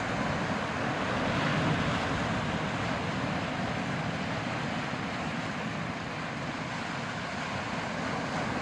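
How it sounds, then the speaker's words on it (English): Ocean surf roars steadily against a rocky shore in Halifax Harbour, a continuous broad wash of crashing water with no voices. "The battle with the waves is relentless."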